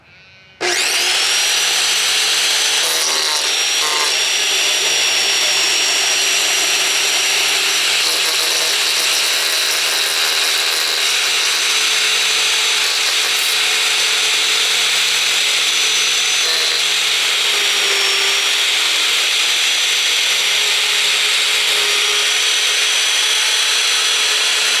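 A Black and Decker electric edger starts up abruptly and runs continuously at full speed, giving a loud, steady, high-pitched motor whine with a buzzing edge that stays unbroken for over twenty seconds, with no talking.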